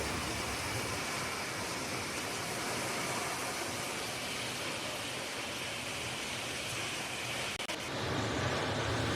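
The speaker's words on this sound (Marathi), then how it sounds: "बघा कशी जोरदार अचानक वाऱ्याची लाट येते" Strong sudden gust of wind during heavy unseasonal May rain, a broad steady roaring rush that swells and ends in a brief louder surge, no voices.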